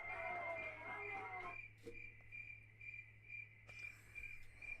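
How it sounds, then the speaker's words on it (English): Cricket chirping sound effect fired from a podcast soundboard, a steady high trill that drops out partway and returns, heard alone at low level. "I wouldn't want to play the crickets"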